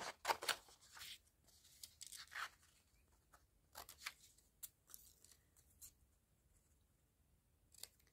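Paper cut out with scissors in quiet, irregular snips and crisp slicing strokes close by, clustered at first then spaced out with gaps; no one talks.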